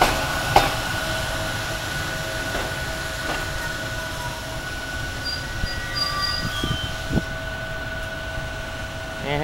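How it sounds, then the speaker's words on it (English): A SEPTA commuter train rumbles past steadily at Paoli, with wheel clatter, sharp clicks over rail joints and a faint squeal, no voices. "And here comes another Septa train."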